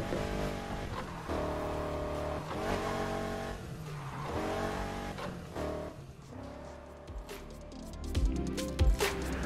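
Cars race in Need for Speed Heat, with engines revving and shifting through rising and falling pitch sweeps, tires squealing, and game music underneath, moderately loud and continuous with sharper impacts near the end.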